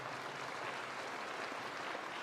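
A school assembly crowd applauds veterans on Veterans Day, a dense, steady wash of clapping that is fairly soft and distant throughout, with no voices.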